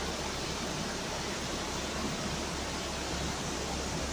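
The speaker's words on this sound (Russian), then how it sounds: "Вот он водопадик начинается." Small waterfall at the start of a mountain stream, a steady broadband rush of falling water heard fairly close and unbroken, with no voices.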